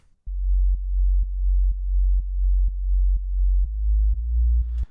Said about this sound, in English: I've also got this simple sub bass layer